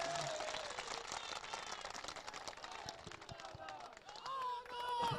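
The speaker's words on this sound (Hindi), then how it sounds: "हम सब जोरदार तालियों से स्वागत करेंगे उनका।" Applause breaks out to welcome a guest at a Congress party gathering with rickshaw pullers in Varanasi, steady clapping from the crowd mixed with voices and some background music throughout.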